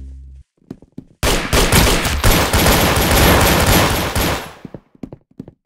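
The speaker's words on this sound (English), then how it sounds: "Very good shooting." Heavy gunfire in the Arsenal video game: a sustained automatic burst lasting about three seconds, framed by scattered single shots before and after, loud and close.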